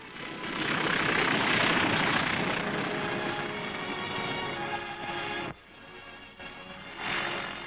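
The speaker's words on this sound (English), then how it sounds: "The first plane landed just 24 hours after the Seabees had started to work." A World War II military plane lands on a freshly built island airstrip at Tarawa, its loud, steady engine drone dipping briefly before swelling again, with no voices.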